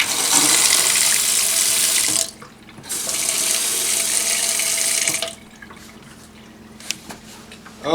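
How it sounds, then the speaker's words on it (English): A kitchen faucet gushes water in two strong bursts, switched off between them, then trickles and drips quietly at the end. "We'll turn the water back on"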